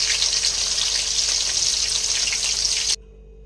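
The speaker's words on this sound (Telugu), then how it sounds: "కరివేపాకు ఫ్రై చేసుకుందాం" Curry leaves and small onions fry in a pan with a steady, dense sizzle that cuts off abruptly near the end.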